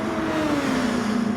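Brief loud engine of a Nissan GT-R race car in Gran Turismo Sport, pulling hard on a front straight with a steadily rising, buzzy drone.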